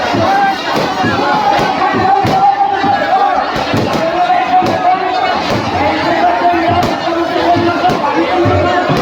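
A dense crowd of devotees gathered around a goddess's palanquin at a village fair procession, loud overlapping chatter and shouting close by, with scattered thumps and knocks through the constant din.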